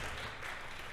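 Audience clapping at an evening conference talk, a short burst of faint, diffuse applause.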